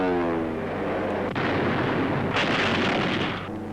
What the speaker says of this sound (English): the fleet throws up a barrage of anti-aircraft fire